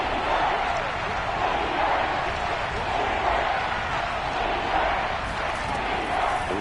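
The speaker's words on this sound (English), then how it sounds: "And the crowd getting into it as we come up on a big third down" Football stadium crowd building into a loud, steady roar ahead of a big third-down play, a dense continuous wash of cheering voices with no pauses.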